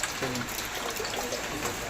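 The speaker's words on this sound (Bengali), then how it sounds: "বৃষ্টি থামার নয়" Steady rain falls outside a home, a soft, even wash of drops with no break, heard at a low level without anyone talking.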